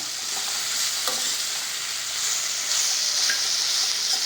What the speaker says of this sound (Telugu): ఇలాగా బెండకాయలు కొంచెం మెత్తబడే వరకు వేయించుదాం